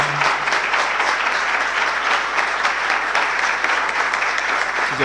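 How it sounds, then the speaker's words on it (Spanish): An audience at a conference applauds the heroes of the Malvinas, dense clapping sustained at an even, loud level throughout with no voices on top. "queremos pedir un fuerte aplauso por los héroes de Malvinas que están presentes en esta charla"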